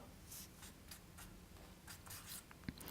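A marker or colored pencil draws leaf veins on paper, giving soft, quiet scratchy strokes in short repeated bursts, close and alone.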